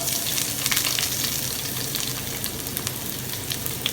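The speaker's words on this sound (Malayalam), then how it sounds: "ഇനി അതിലേക്ക് നമുക്ക് വെളുത്തുള്ളി ഇഞ്ചി ഇട്ട് കൊടുക്കണം" Garlic and ginger sizzle steadily in hot oil for a Kerala-style crab roast, a dense close crackling hiss with faint stirring clicks and no voices.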